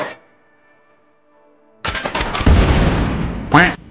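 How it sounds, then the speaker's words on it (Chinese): Rapid pea bullets fire in a plants-vs-zombies style video game, a dense burst of popping shots that starts abruptly after a quiet tone and runs steadily loud, ending with a sharper sweeping zap. "急速豌豆子弹"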